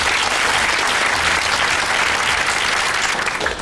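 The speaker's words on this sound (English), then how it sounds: "Give him a round of applause." A studio audience at a quiz show applauds a contestant with dense, steady clapping that stays loud and even throughout, with no talking.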